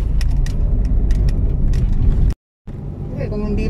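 Road traffic during Metro Manila's enhanced community quarantine, with several cars and motor vehicles passing close by in a steady broadband rumble, a brief dropout, then continuing with faint voices.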